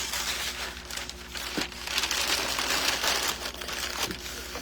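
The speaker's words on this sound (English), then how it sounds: "I'm going to remove this paper" Paper being pulled off and crumpled by hand produces continuous close crinkling and rustling with a few sharper crunches, and no one speaks.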